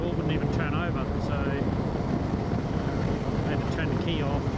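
A boat engine running steadily after stalling and being restarted, a continuous rumbling drone mixed with wind buffeting the microphone, with a voice talking over it.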